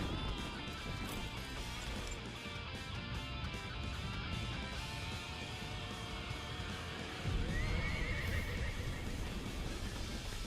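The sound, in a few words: horse neighing in Warriors Orochi 3 Ultimate video game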